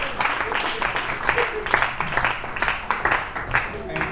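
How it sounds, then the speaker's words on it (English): Clapping from a meeting audience, somewhat uneven and moderately loud, with voices talking over the applause throughout. "So big round of applause for the 2 guests."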